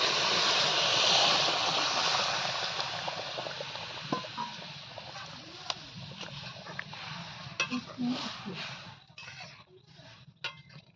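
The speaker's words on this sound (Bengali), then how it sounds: "ভাজা হয়ে গেছে দিয়ে দেওয়া হয়েছে ডাল" Lentils tip into a hot frying pan for a village-style dal with fish head and greens, setting off a steady hiss that slowly fades, with a few light utensil clinks toward the end.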